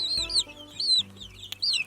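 Young chickens in a hatching pen give repeated high, bright peeps and clucks, several quick calls close by with short pauses between.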